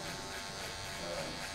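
A cordless hair clipper, set fully open, buzzes steadily and close up while starting a fade in a barbershop, a continuous electric hum with no pauses.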